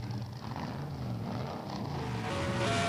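A stock car engine in a racing video game drones steadily at close range, its hum building slightly louder toward the end with no speech.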